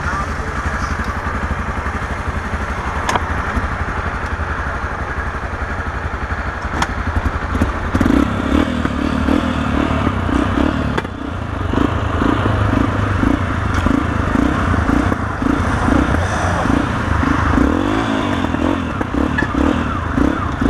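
A Yamaha XTZ motorcycle engine rumbles and revs while riding, with loud clattering bursts and occasional sharp backfire pops. Speech is heard over it.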